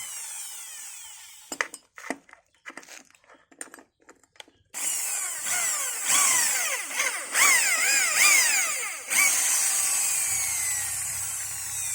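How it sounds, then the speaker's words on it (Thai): A power drill bores holes through brake pad material, first a size 10 bit and then a size 17, with broken bursts of drilling that turn into a sustained loud whine rising and falling in pitch as the bit cuts through. "ต่อไปเป็นการเจาะ เจาะ เพื่อใช้น็อตมีสองเบอร์นะครับเจาะเบอร์สิบก่อนแล้วค่อยเจาะเบอร์สิบเจ็ดช่วงล่าง"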